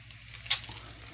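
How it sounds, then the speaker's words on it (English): Coca-Cola cooks in a pan alongside peanut butter cookie pancakes, giving a soft, low sizzle with one brief sharp hiss partway through. "The Coke is"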